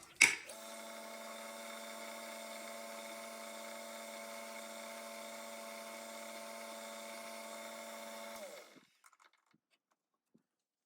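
A number 53 drill cuts a small hole, making a close, steady high-pitched whine for about eight seconds that then winds down to silence.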